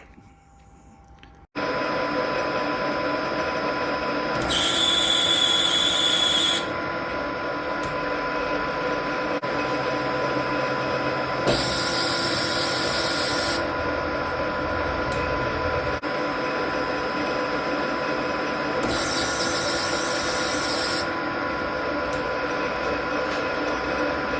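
Metal lathe cutting a 1.5mm pitch thread on a 32mm workpiece, a steady mechanical whir and hum with three repeated bursts of brighter, harsher cutting noise at regular intervals.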